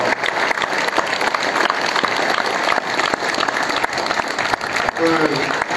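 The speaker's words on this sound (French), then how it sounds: "je vous demande de faire un tonnerre d'applaudissements." A large crowd at a town's patronal festival bursts into loud, thunderous applause, dense continuous clapping close by with a brief voice near the end.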